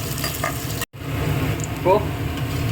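Vegetables sautéing in a pan for a Tamil lunch dish of beetroot masala, a steady frying sizzle with stirring scrapes, briefly cut off near the start, then continuing close and moderately loud without talk.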